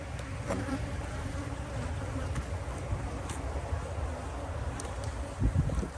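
A dense, steady buzz of many honey bees swarming close around a hive, continuous throughout with a faint breeze behind.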